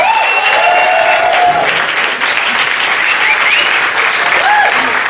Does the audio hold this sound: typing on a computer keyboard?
no